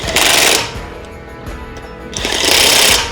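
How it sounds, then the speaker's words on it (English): Rapid mechanical clicking and ratcheting from a torque wrench, loud and close, rising at the start and again near the end with quieter clatter between. "7 clicks. You hear the wrench go."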